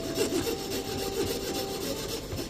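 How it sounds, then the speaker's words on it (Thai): A hand saw cutting mother-of-pearl shell inlay, a rhythmic back-and-forth rasping of short regular strokes, close and steady, with no talk. "ถอยเลื่อยหลัง ถอยเลื่อยกลับมาเหมือนเดิม ค่อยๆถอย"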